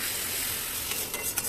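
Lentil tarka frying in a pan, giving a steady close hiss with a few faint scraping strokes near the end; no voices.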